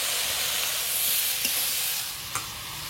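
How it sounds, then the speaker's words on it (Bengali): Ridge gourd fries in hot oil with a steady, close, bright sizzle, broken by a couple of small clicks as it is stirred. "ঝিঙে ভাজা হচ্ছে"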